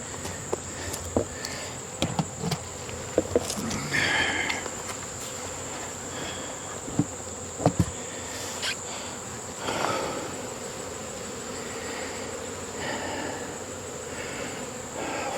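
Dense swarm of bees in a hive box with a screened bottom board, giving a steady, close, continuous buzzing hum with a few brief knocks and handling sounds; no voices.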